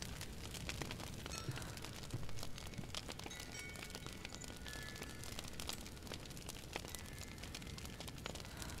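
A fire burns in Hellblade: Senua's Sacrifice, giving a dense, steady crackle with scattered small pops that runs unbroken from start to finish at a moderate level, with no one talking.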